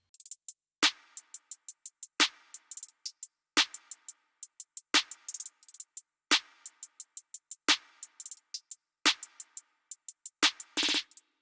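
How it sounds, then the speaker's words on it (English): A busy, bouncy hi-hat pattern in a hyperpop beat ticks rapidly over steady kick hits, with quick rolls and a short stuttering burst near the end; no voices. "After that, I added a very bouncy hat pattern."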